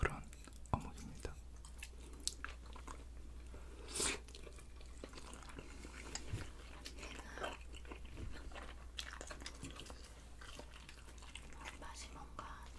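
Close, intimate chewing of Busan fish cakes from fish cake soup, with soft wet bites, squishes and crunches repeating through a quiet background.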